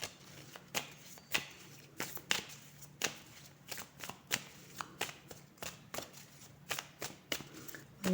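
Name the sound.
shuffling oracle cards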